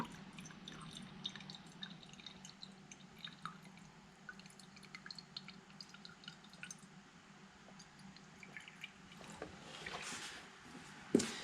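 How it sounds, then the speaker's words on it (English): Gasoline dribbling and dripping while an ethanol tester is filled, small irregular wet drips and splashes close up, faint and scattered through the whole stretch with a slightly louder spill near the end. "And of course I dribble it all over the place."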